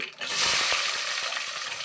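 Sliced onions dropped into hot oil for a Nellore-style fish curry, with a burst of sizzling that rises quickly and holds as a steady, close crackle with a few light clinks.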